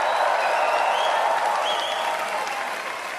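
A large crowd at a political rally applauds steadily and loudly, a dense, continuous wash of clapping with faint cheers that tapers slightly toward the end.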